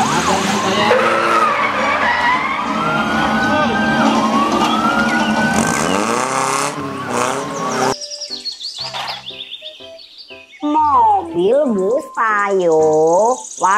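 A toy police car siren plays as a looping electronic wail that sweeps up and down, loud and close, with a busy burst of mixed toy sound effects before it.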